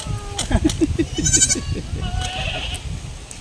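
A two-day-old goat kid bleats in a quick run of short, wavering cries close by, followed by quieter rustling.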